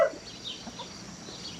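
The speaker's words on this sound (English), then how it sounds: "That's my good chickens." Chickens in a backyard flock cluck softly while being fed scratch grain, with a few short calls over a low, steady outdoor background.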